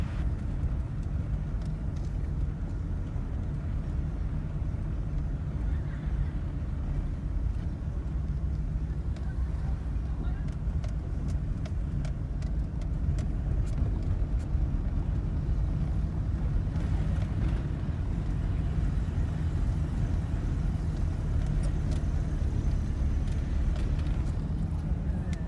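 A car drives slowly through a park, heard from inside the vehicle as a low, steady road and engine rumble with faint wind noise, continuous and fairly quiet throughout.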